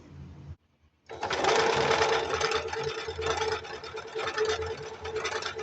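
Singer Advance sewing machine stitching a decorative pattern: after a brief pause the motor starts and runs steadily with a rapid, rhythmic mechanical whirr and needle clatter, close and continuous.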